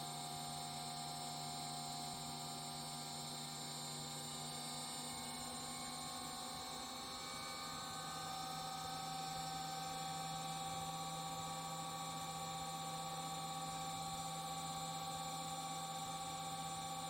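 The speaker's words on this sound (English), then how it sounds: "The RPM of the motor is increasing proportionally as the frequency increases nicely." Synchronous permanent magnet motor driven by an inverter, humming with steady tonal whine that slowly rises in pitch as speed increases; faint and continuous, no talk.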